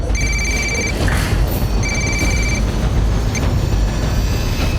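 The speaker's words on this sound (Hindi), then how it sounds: "उसी का कॉल है सर।" Telephone ringing with an incoming call, two clear electronic ring bursts a second apart, loud and close over a low rumbling room background, no talking.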